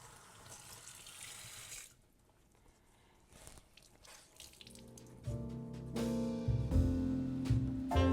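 Water is squeezed out of a wet towel used to flatten wrinkles in a new rug. Soft trickling and splashing build to louder, denser pouring toward the end, with no one speaking.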